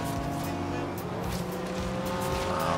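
A Ferrari F40 race car roars in Forza Horizon 3, its engine droning loudly and steadily with tire squeal layered on top, while a voice speaks briefly.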